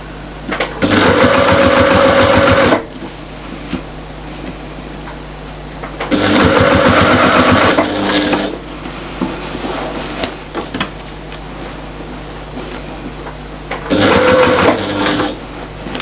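A sewing machine stitches a curved fabric pouch in three loud, steady bursts of rapid mechanical whirring and clatter, separated by quieter pauses with faint handling sounds.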